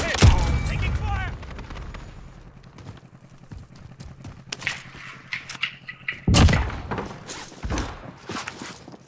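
Call of Duty Warzone gameplay on Rebirth Island, with sharp gunshot bursts and rapid cracks scattered throughout, the loudest near the start and around the six-second mark, mixed with footsteps and game noise and a voice talking.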